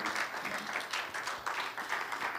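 A church congregation applauds steadily throughout, a dense wash of many hands clapping at a fairly even level, swelling slightly in waves, with no distinct voices rising above it.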